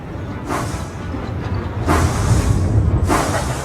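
A train brakes to a stop in a children's TV show, with a rumbling rail drone broken by three sharp bursts of hissing brake air.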